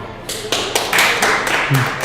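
Boys basketball teammates clap to vote in a hair contest, a quick, ragged run of handclaps building into a brief burst, close and fairly loud, with a voice heard briefly near the end.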